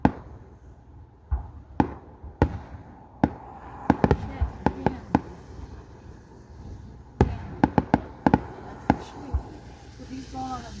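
Fourth of July fireworks crack and pop in scattered sharp bursts, some close and loud, others in quick clusters, over a quiet outdoor background with occasional voices.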